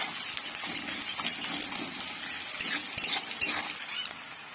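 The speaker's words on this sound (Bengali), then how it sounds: "দিয়ে আবারও সবগুলো ভালোভাবে নেড়ে নেবো, যাতে পেঁয়াজটি একটু নরম হয়ে যায় আর একটু ভাজা ভাজাও হয়ে যায়।" Onions with spices being stirred as they fry in a pan for mustard greens cooked in a village setting, a steady sizzle with soft scraping strokes and a few sharper utensil knocks near the end.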